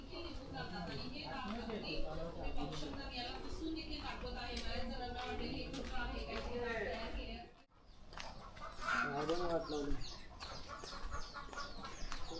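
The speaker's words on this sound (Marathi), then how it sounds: "कोंबडी आपल्याला पाहायला मिळते" Hens clucking in a rural village in Raigad beside rice paddies during the monsoon, heard in short, repeated bursts over steady outdoor ambience while people talk throughout.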